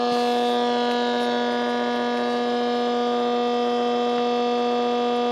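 A circuit-bent PC gives off a steady electronic drone, a buzzing stack of harmonic tones that holds at an even loudness throughout, with no voices.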